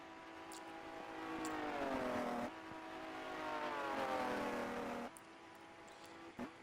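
A Ferrari racing car at the 1949 British Grand Prix at Silverstone, its engine note rising and falling through revving passes, heard at a moderate distance with no voices.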